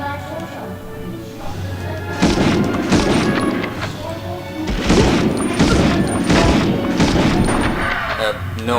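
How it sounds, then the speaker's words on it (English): Bursts of gunfire and heavy booming impacts in a Medal of Honor game battle, loud and dense, with clusters of shots surging around the middle and end. "someone looked like they were surrendering but they were shooting bullets in the air"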